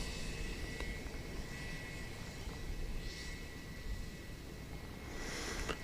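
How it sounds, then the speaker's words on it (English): A Korean Air Airbus A321 roars steadily on departure from Seoul, a sustained broadband jet engine rumble heard from a distance with no talking. "Korean Air Flight 805 is on its way to Tianjin, an Airbus A321."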